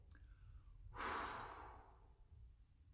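A man exhales audibly in a long, close breath out onto people, a soft breathy rush lasting about a second, with quiet room hiss before and after.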